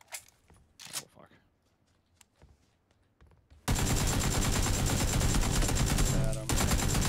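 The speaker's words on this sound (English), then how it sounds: "I can just hear gunshots." Gunfire in the battle-royale game PUBG: a loud, dense stretch of continuous automatic shots starting partway through, preceded by a few scattered sharper shots and faint movement sounds.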